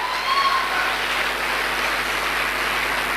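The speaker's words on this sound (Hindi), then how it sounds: "तो ऐसे लीडर के लिए जोरदार तालियां।" Loud, sustained audience applause fills a seminar hall honoring a business leader, a dense, steady wash of clapping without pause for about three seconds.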